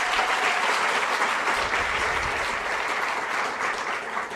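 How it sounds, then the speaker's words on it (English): Audience applause at a university public lecture, a steady, even roar of many hands clapping throughout, close and sustained without pause. "Please give them a round of applause."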